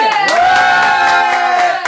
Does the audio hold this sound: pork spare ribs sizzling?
no